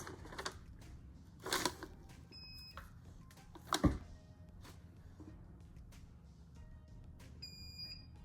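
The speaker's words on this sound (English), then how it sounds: "Okay, it's gonna beep again." A sublimation tumbler press gives short, quiet electronic beeps twice, separated by soft handling clicks and knocks in a quiet room.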